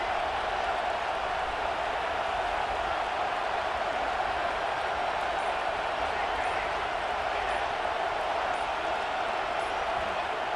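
A large stadium crowd at a college football game roars steadily and continuously, a dense wash of cheering noise that stays at the same loud level throughout.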